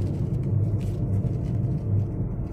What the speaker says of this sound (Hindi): गाड़ी अभी 5वें गियर में चल रही है